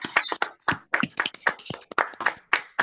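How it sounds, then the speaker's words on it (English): Several people in an online meeting clap at a book launch, a short burst of sharp, irregular hand claps, close and dry with no talk over them. "in a virtual world, we miss that clapping sound. So can you please unmute and clap?"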